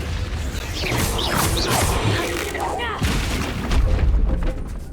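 A Confringo spell blasts in the Hogwarts Legacy game, a loud fiery burst with crackling debris and rumble that stays up for several seconds, with a voice heard during it.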